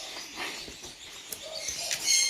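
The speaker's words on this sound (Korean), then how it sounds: "어머나, 새소리." Parrots and other birds calling at a parrot farm in Hongseong, with faint chirps and scattered high calls over a quiet room background.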